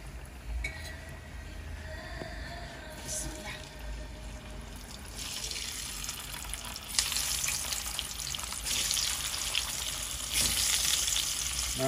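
Eggplant fries in oil with turmeric, making a steady sizzling hiss that swells louder in places, alongside soft stirring and some running water.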